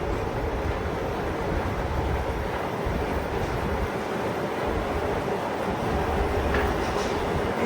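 Continuous rumbling roar of a metro train running on rails, steady and loud with rattling texture, no voices.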